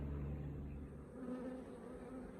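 Honey bees humming in an open hive box during an inspection, a low continuous buzz close by with no talk.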